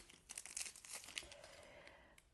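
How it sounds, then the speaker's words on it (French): A Kinder chocolate packet wrapper being torn open, with close, bursty crinkling and tearing of the plastic in quick irregular crackles over a couple of seconds. "Si j'arrive à ouvrir ce paquet."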